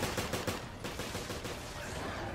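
Gunfire in the video game Resident Evil Revelations, a rapid burst of shots early on that settles into a dense, continuous rattling din.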